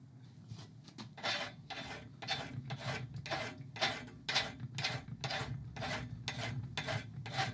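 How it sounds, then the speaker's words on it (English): A hand file rasps over the steel jaw of blacksmith's side-grab tongs in a steady rhythm of about a dozen quick strokes. The grating strokes are close and clear, with a low hum underneath. "You'll notice how I'm filing this as I'm filing away from the steel"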